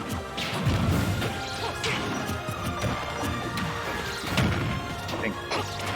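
A side smash attack lands in Super Smash Bros during a Zero Suit Samus tournament match, a sharp smashing hit among repeated impacts and game effects, with a commentator talking over it.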